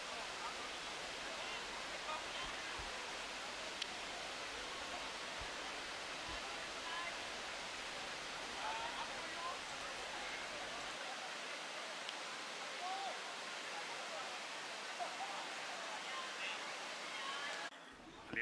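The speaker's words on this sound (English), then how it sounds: "people are refreshing in the water under this little waterfall." A small waterfall on the Eisbach river in Munich, with people bathing beneath it, rushes in a steady, even broadband roar that holds for the whole stretch without a break.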